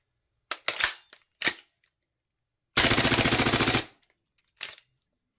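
A Tokyo Marui MWS airsoft rifle with a standard bolt fires one loud, rapid full-auto burst of about a second, with a few single clacks and handling knocks before and after.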